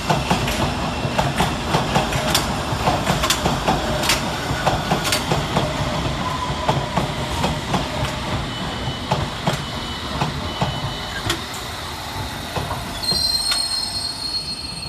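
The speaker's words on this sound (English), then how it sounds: "Next up is 21381 and 21382 with a Hammersmith and City Line service from Hammersmith to Moorgate." London Underground S-Stock train on a Hammersmith and City Line service at Farringdon station, wheels squealing loudly along the rails with repeated clicking and clattering as the cars roll through.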